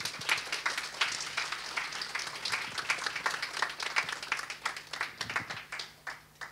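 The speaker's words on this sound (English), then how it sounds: "I really want you all to give yourselves a round of applause for making it this" A graduation audience claps in a large room, a fairly quiet, steady patter of many hands that thins out toward the end.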